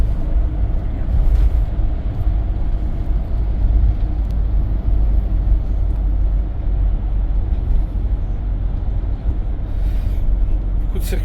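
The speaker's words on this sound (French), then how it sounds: "Beaucoup de circulation sur ce secteur-là." Heavy road traffic rumbles past a camper van on a drive toward the Doubs in Franche-Comté, a loud, steady low roar with no breaks that fills the whole stretch.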